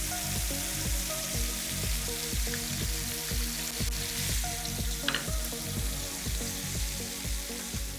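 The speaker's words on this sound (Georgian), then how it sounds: "კარგად დაიბრაცა უკვე ბეკონი ორივე მხრიდან." Bacon-wrapped melon fries in a pan with a steady, close sizzle and spitting, over a faint rhythmic pulsing background and no talking.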